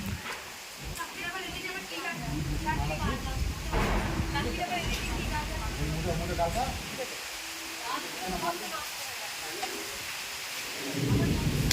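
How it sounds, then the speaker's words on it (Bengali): Low thunder rumbling through a storm with rain, heard under ongoing conversation in Bengali, deep and rolling rather than sharp cracks. "বাবা মেঘ ডাকছে"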